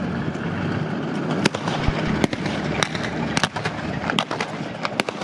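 Blank-fired rifles and guns rattle in a sustained, torrential volley at a reenactment display of the capture of Tiger tank 131, with sharp, irregular cracks bursting over a constant background roar.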